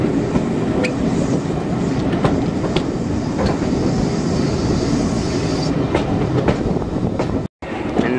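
A steam locomotive, LMS locomotive 8274, rumbles past steadily on a heritage railway with a rhythmic clickety-clack of wheels on rails, loud and close, then cuts off abruptly near the end.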